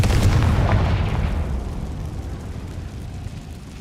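A Confringo spell explosion in a video game bursts with a loud, deep boom, then rumbles and slowly fades over a few seconds with no talk.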